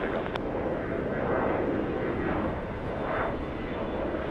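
A passenger airplane takes off at LAX: a continuous, broad jet roar swelling and easing slightly, heard from a distance.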